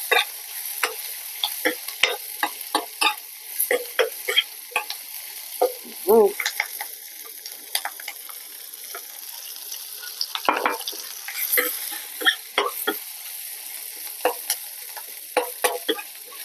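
Stir-frying ingredients for a northern Thai mixed mushroom curry, with steady sizzling in a pan and repeated scrapes and clinks of a utensil stirring at irregular intervals, close and alone without talk.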